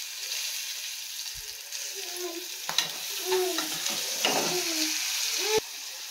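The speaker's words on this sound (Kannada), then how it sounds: "ಟೊಮೆಟೊ ಸಾಫ್ಟಾಗಿ ಬೇಯಬೇಕು, ಅಲ್ಲಿ ತನಕ ಫ್ರೈ ಮಾಡ್ಕೊಬೇಕಾಗತ್ತೆ." Tomato frying with kasuri methi in a pan for a dill leaf egg fry: a soft, steady sizzle with several scraping stirs and spoon taps close by.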